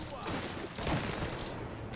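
Shotgun blasts and gunfire from the video game Mafia Definitive Edition, a dense crackling burst of shots and rumble, with a voice talking faintly underneath.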